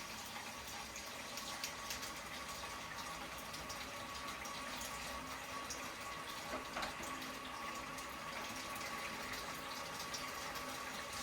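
Tap water runs steadily into a sink for rinsing during Easter nest cooking, a continuous broadband rush that stays close and even throughout with no talk.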